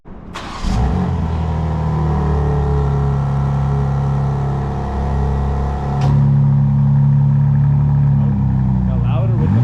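A 2024 BMW M2 with a muffler delete idles loudly and revs up from inside the car, a deep steady engine drone with a sharp blip at the start and another rise partway through.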